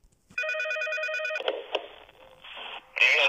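A telephone rings in a Five Nights at Freddy's parody fan game, a steady electronic trill for about a second before shifting into a muffled, noisier tone and a brighter burst at the end.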